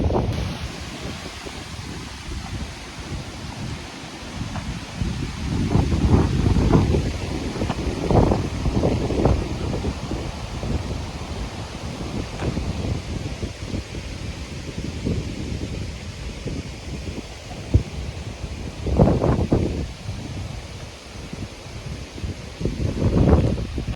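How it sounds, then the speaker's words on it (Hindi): Strong wind buffets the microphone in deep, rumbling gusts that swell and ease, loud and continuous with no voices. "इतनी तेज़ हवा चलती है"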